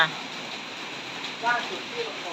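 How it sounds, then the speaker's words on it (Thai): Steady rain falling over rice paddies during a storm, a broad continuous hiss close by with a brief louder patch of spatter midway. "มันก็จะเป็นแบบนี้นะคะฝนตกนะคะ"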